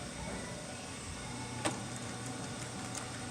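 Juki LU1510N sewing machine running slowly under the pedal, a steady low motor hum with a faint mechanical whir and one small tick, close and even throughout, with no one talking.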